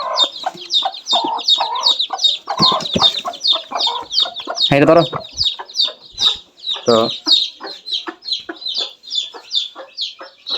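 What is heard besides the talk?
chickens clucking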